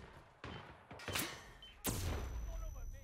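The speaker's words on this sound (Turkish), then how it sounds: "Bayağı bildiğin çatışma çıktı." Gunfire erupts in a firefight in the video game Hitman 3, with sharp broadband bursts striking in a rapid cluster and a heavy, sustained volley building toward the end, loud and close.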